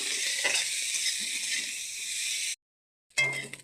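Eggplant and prawns fry in hot oil seasoned with salt, turmeric and chili, a steady loud sizzle that stops abruptly, then resumes briefly after a short silence.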